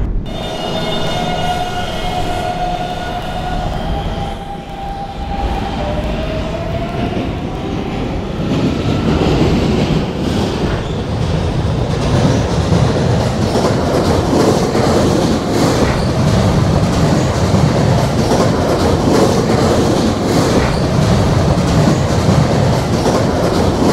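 A R152 subway train in a Roblox game runs steadily on a 7 local line, with loud continuous rumble, rhythmic wheel clatter and a brief squeal early on, no talking.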